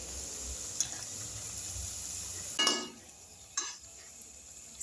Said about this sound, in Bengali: উল্টে পাল্টে লাল লাল করে আমি ভেজে নেব